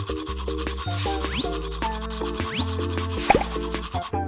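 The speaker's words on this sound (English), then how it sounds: "First, let's brush his teeth." Teeth being brushed in a cartoon kids' bathroom-routine game, rendered as short synthetic scrubbing and bubbly plopping effects over a bouncy electronic tune, with a brighter splashy burst near the end.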